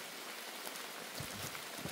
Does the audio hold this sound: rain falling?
yes